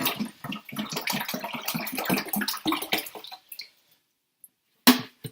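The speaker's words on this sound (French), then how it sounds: "Fait qu'on va mettre 1 litre d'eau dans le chaudron." One litre of water pours into a pot, a splashing, bubbling stream with uneven glugs for about three and a half seconds that then stops, followed by a single close clink.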